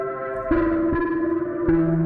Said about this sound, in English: so that sounds like an ice cream van